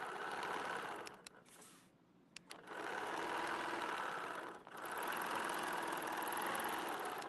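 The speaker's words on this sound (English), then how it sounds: "Now let me stitch back up and finish the side." Sewing machine stitching tri-level poly thread in steady, continuous runs, with a short pause near the start and a brief dip midway before the stitching picks up again.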